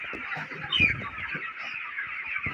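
Chickens cluck and squawk in a continuous, fairly close chorus at a poultry market, with no voices over them.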